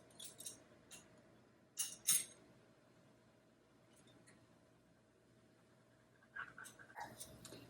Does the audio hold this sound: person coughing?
no